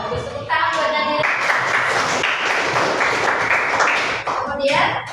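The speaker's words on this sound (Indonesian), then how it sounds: "tepuk tangan buat Nadira." A school class claps for a student in a ninth-grade Islamic studies lesson, a burst of close, lively hand clapping that swells and then fades, with a teacher's voice briefly before and after.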